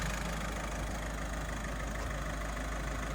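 A 2018 Ford Transit Connect with about 50,000 miles idles steadily, a low, even engine hum heard up close and unchanging throughout, with no talking.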